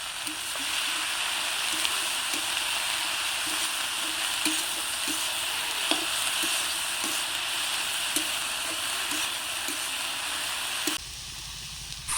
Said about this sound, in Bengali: ওলের থোড়টা আগে ভালো করে লবণ দিয়ে ভাজা ভাজা করে নিয়ে